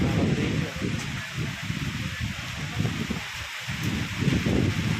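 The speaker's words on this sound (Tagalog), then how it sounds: "Mahangin," Gusty wind roaring and buffeting close to the microphone, with a rustling hiss that swells and dips throughout.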